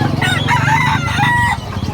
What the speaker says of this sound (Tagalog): May mga native na manok,